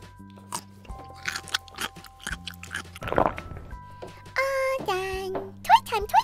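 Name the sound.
crunchy raw vegetable being chewed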